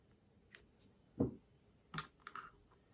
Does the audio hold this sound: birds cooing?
no